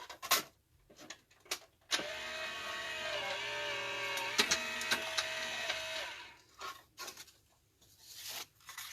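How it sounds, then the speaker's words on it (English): A die-cutting machine runs a stamped card held with a Post-it note through its rollers, giving a steady mechanical whir with a rising tone that lasts about four seconds, framed by scattered clicks and handling taps before and after. "hold the whole thing while it runs through the machine"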